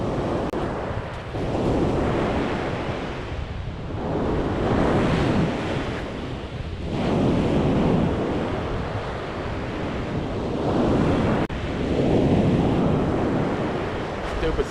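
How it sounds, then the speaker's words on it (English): Strong side wind buffeting the microphone at the seashore while fishing, in loud gusting swells over the steady wash of surf breaking nearby. "Stupid side wind."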